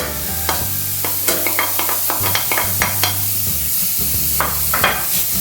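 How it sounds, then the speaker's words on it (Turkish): Minced meat and onions frying in a pan, a loud, constant sizzle broken by frequent sharp scrapes of a spatula stirring against the metal, close up. "Şimdi kıymaların rengi dönene kadar kavuracağım"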